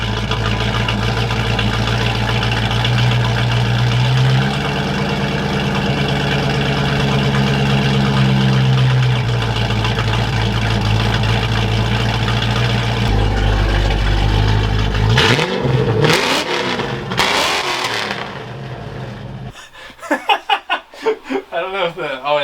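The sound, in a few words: Ford Mustang Foxbody custom exhaust idling and revving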